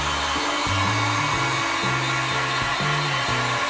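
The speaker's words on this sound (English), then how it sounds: "you can heat seal it all up and have it not look so textured" A heat gun heat sealing craft foam for a prop bracer blows with a loud, continuous airy roar close to the mic, holding steady throughout with a slightly shifting motor hum underneath, no voices.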